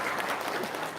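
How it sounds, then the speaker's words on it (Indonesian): A short burst of clapping from a small audience at a religious testimony talk, steady and moderately close, with no voices over it. "Wow, tepuk tangan dong."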